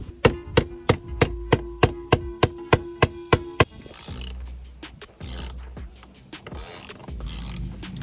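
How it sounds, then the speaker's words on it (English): Hardware on a Hallberg Rassy 352 sailboat's mainsheet traveller being unbolted, starting with a steady run of about a dozen evenly spaced ratcheting clicks, followed by scattered muffled clunks and scraping handling sounds, close by. "So that means unbolting everything, probably breaking a bunch of stuff, taking this off, and sliding this off."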